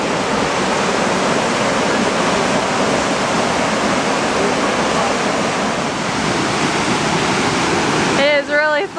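Waterfall roars as a steady, loud, broadband rush of falling water close by, with a short burst of voice near the end.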